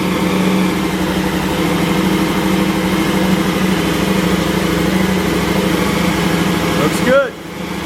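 A 2016 KTM 1290 Super Adventure motorcycle, fitted with a Rottweiler canister delete kit, idles close by with a steady, even rumble that briefly dips near the end.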